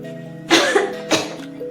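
A person coughs twice, two short, sharp bursts about half a second apart, close and clear over a quiet background hum.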